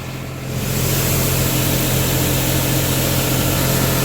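A tractor hauling two loaded grain wagons drones with a steady, heavy engine roar that swells after a moment and then holds constant and loud, close by with no talking.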